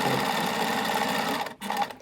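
A sewing machine stitches fabric for a small drawstring pouch, running steadily and close for a couple of seconds, then briefly stopping and starting again.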